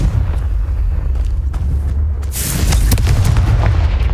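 Confringo fire spell explosion in Hogwarts Legacy on PS5: a loud, close blast and crackling burst over a steady low rumble, with further impacts trailing off, no talk.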